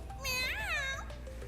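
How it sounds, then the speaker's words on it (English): A cartoonish cat meow in the kart racer Crash Team Racing Nitro-Fueled, a single rising-and-falling yowl about a second long, close and clear over faint background game noise. "Meow."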